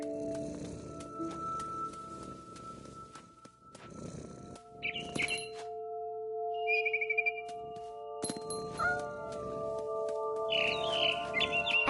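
Bird chirps ring out in the video game What Remains of Edith Finch, short bright calls in scattered bursts over sustained tonal game music and ambient hum, clear and fairly close.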